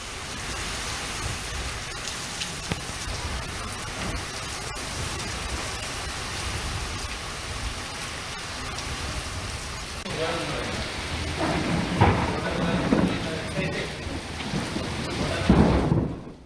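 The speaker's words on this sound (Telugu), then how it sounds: "ఈదురుగాలులతో వర్షం పడుతోంది" Heavy rain with gusty winds pours steadily in Telangana while thunder rumbles through it, swelling louder and closer toward the end.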